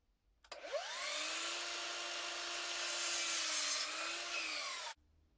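Continuous power saw cutting plywood for a baby co-sleeper build, a steady whining drone with slowly shifting pitch lasting several seconds, loud and close, then stopping abruptly.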